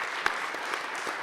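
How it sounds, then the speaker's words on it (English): Audience applause at a space-industry conference panel on taking innovation to the Moon, a brief, fairly faint patch of clapping from a modest crowd, heard on its own. "give everybody here a real round of applause"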